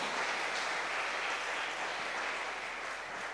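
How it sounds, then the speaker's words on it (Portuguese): Sustained congregation applause filling a church service, a dense, even wash of many hands clapping together at steady loudness with no voices standing out. "Dê um forte aplauso a Jesus"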